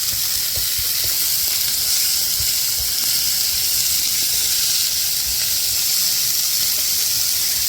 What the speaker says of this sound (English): onions and green peppers all diced up. I'm going to add this to my griddle.